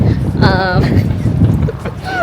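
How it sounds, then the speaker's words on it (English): Steady low rumble of wind buffeting the microphone outdoors in London, with voices talking over it throughout. "It's so windy."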